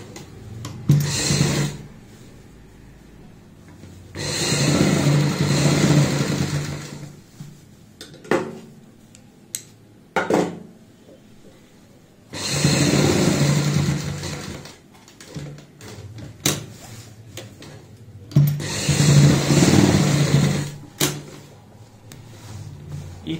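A sewing machine stitches a strap onto a handmade travel bag, running in several sustained whirring bursts separated by pauses with clicks and handling noises, moderately close.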